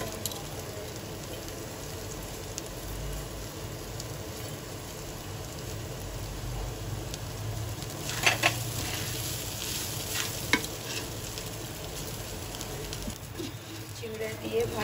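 Flattened rice poha being stirred in a frying pan, a soft continuous sizzle with occasional scraping stirs and a few sharper clatters, fairly quiet and steady throughout.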